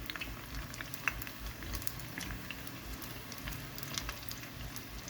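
Rice balls made from cooked rice with green herbs and chives fry in hot oil, giving a soft, steady bubbling crackle with scattered small pops, fairly quiet and with no talking.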